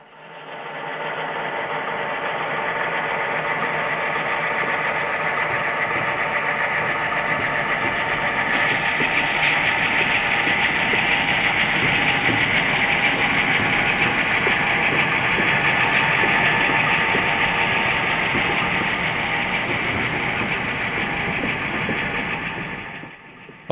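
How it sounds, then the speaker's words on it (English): An SD7 diesel locomotive hauls a loaded freight train eastward near Nelson on a Kettle Valley line, its steady engine drone rumbling and vibrating continuously and fairly loud throughout, with no talk. "the SD7 is still heading east with its loads"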